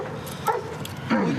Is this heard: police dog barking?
yes